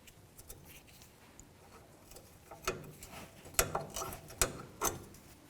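Socket ratchet removing the lower ball joint nut on a 1997-2004 Dodge Dakota, a series of sharp metallic clicks and clanks, sparse and irregular over faint background noise.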